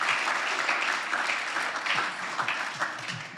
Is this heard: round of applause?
yes